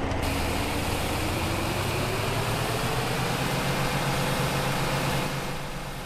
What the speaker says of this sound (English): pay attention to the RPMs of the tractor